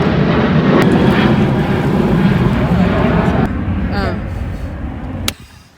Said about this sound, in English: And there's a plane, so hold on a second.